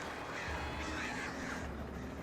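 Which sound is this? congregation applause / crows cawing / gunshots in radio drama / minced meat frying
crows cawing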